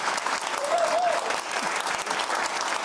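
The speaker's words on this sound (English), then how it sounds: "Ladies and gentlemen, please, big round of applause for Sue Wong." Steady applause from a TV studio audience fills the whole stretch, dense and continuous, with a brief cheer-like tone rising above the clapping.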